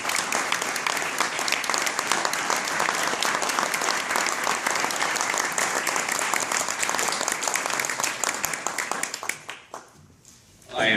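An audience at a Children's Poet Laureate ceremony for Kenn Nesbitt gives sustained, dense applause filling the room, then fades to near quiet before a fresh sound at the very end.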